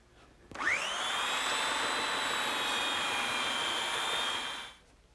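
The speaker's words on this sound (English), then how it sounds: "I thought I'd sand down these dowel pins. They're sticking out just a little bit. And to do that, I'm just going to use my little belt sander." A small belt sander sands down protruding wooden dowel pins on a kitchen worktable, starting abruptly, holding a steady high whine for about four seconds, then cutting off.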